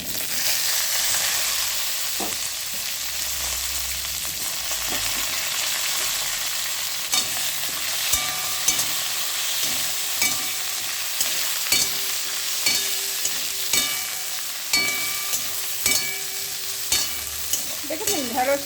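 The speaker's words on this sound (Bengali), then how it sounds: "ফোড়নটা ভালো হয়ে গেলে পরে আমি দিয়ে দেব কেটে রাখা ঢ্যাঁড়স" Okra frying in hot oil in a pan after the tempering spices, with a steady sizzle broken by repeated clinks and scrapes of a spatula stirring, close and alone with no talk.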